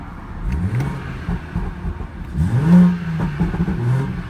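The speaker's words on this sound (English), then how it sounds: "Smooth inline six sound." A 2017 BMW 340i xDrive with its stock exhaust and inline-six engine revs up and settles in a few smooth rising and falling pulls, loud and close, with no one talking.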